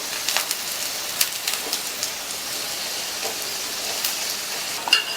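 Onion roti frying in oil on a pan gives a steady, close sizzle and crackle with occasional small pops throughout.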